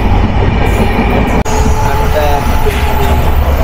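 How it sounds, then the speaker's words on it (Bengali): A passenger train on a journey to NJP (New Jalpaiguri) rumbles loudly and steadily as it runs into a tunnel, with a brief sharp dropout partway through and continuous rail noise throughout. "এইমাত্র একটা টানেলের মধ্যে দিয়ে আমাদের ট্রেন ঢুকে গেছে"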